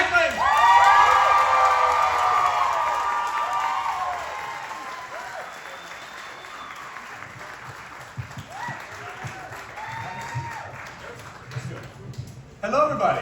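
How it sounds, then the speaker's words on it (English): An audience applauds and cheers loudly for guest Tyler Hoechlin, a dense burst of clapping with whoops and shouts that gradually thins into scattered claps and calls, with voices under it. "have an amazing round of applause for our guest, Tyler Hoechlin!"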